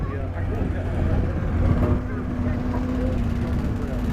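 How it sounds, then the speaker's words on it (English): A wheeled BRDM-2 armoured scout car drives past at a tank show, a low diesel drone with a tonal engine note rising briefly as it nears, while people talk over it. "BRDM2 going on first, followed by the PCR60"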